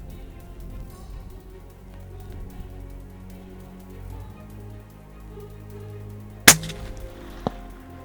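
A single sharp rifle shot rings out during a Coppermoon safari hunt in 2023, a loud crack near the middle with a fainter secondary report a second later, over quiet outdoor background noise.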